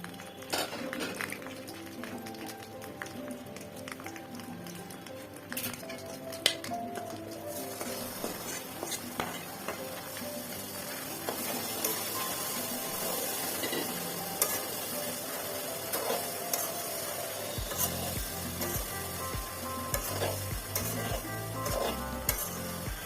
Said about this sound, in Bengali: এখন মাংসগুলো ঢেলে দিব।